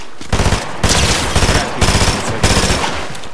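Rapid automatic gunfire from a zero-build squads shooter game, firing in several loud bursts of quick repeated shots with brief gaps between them, close and dominant with no talk over it.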